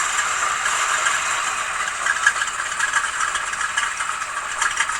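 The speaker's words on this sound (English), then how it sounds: "Something's wrong with the carburetor, so I can't adjust that yet. But at least it still runs." A 1988 Chevy engine with a faulty carburetor idles steadily, a continuous rattling, buzzy drone heard close and alone with no talking.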